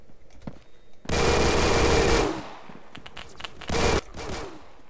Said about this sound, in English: And they're fireworks.